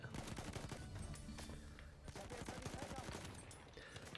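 Gunfire in Battlefield 1, heard as a dense, continuous barrage of overlapping shots and blasts close in the mix, with the chatter of automatic fire layered among the reports and no talking.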